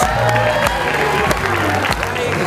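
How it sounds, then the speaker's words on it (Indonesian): Studio audience applause on the Indonesian TV dating show Take Me Out Indonesia, a loud clapping wash with music and a voice underneath. "Selamat, boleh kita berikan tepuk tangan ladies."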